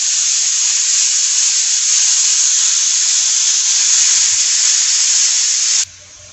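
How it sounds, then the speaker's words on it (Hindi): Steam hisses loudly and steadily from a pressure cooker after its whistle is removed while making keema matar, a strong continuous close-up release that cuts off abruptly near the end. "पहले मैं सीटी उतारूंगी, खोलूंगी तो नहीं।"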